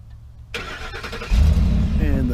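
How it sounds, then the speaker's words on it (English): A 2012 Ford Expedition EL starts by remote start: after a brief quiet pause the starter cranks, the engine catches with a low rumble, and it settles into a steady close idle. "And the vehicle just started"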